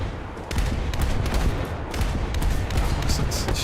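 Rapid 20 mm cannon fire in a naval combat game with American coastal boats: a steady, loud crackle of many quick shots overlapping without pause.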